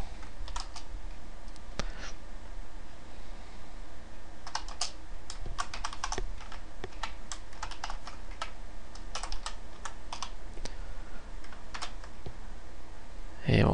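Typing on a computer keyboard, irregular bursts of close key clicks with brief pauses, continuing over several seconds against a low steady room hum.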